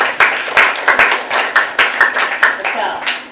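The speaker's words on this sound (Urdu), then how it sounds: "شاباش، ان کی تالیاں بجائیں نا" A small group of children claps in a quick, uneven burst of sharp hand claps lasting a few seconds, close and loud, with a voice speaking over it.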